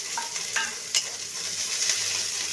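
Onion frying in hot oil with chili in a pan, a steady near hiss and sizzle with a few sharp scraping stirs early on, no voices.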